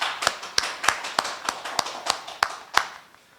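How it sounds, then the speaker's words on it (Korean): A church congregation at Sunday worship claps in slow, even unison, about nine sharp claps in a steady rhythm that fade at the end, with no talking. "우리 하나님께 영광의 박수 올리겠습니다."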